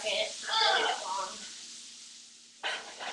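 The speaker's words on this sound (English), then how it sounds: "Let them sizzle for just a second." Beans sizzle in a pan with a bright crackling hiss that swells, fades, then flares up again near the end.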